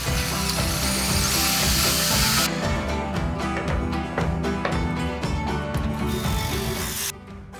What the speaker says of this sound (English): I'm going to drill a 3 centimeter hole 4 centimeters from the front of the slider.